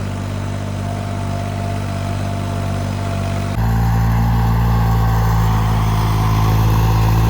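A new New Holland 3600 tractor engine runs on its first day, a loud, steady near-field drone that jumps to a heavier, deeper throb partway through as the engine load or speed rises.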